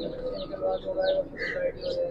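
Imamdeen pigeon, a grey-feathered banded bird, gives repeated low cooing calls at close range in a quiet setting.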